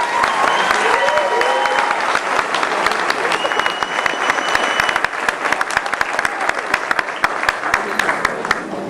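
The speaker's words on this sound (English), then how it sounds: "Let's give them a round of applause." A morning audience gives a sustained round of applause, many hands clapping loudly and continuously, with crisp individual claps standing out near the end as the ovation thins slightly.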